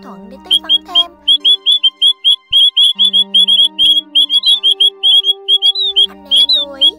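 Recorded call of the Áo Già bird, played back as a lure for trapping, gives a long run of rapid, evenly spaced whistled chirps and squawks, loud and near, with a faint electronic tone beneath.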